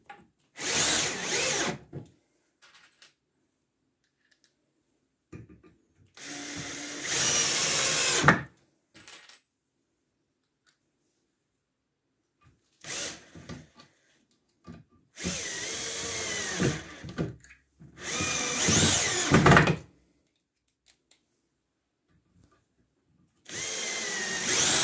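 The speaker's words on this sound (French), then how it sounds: "Donc je vais déjà la visser sur un côté." A power drill drives screws into wood in a workshop, in short separate bursts of whirring and grinding with quiet gaps between them, close and clear.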